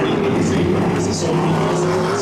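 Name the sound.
Hydro 350 racing hydroplane boat engine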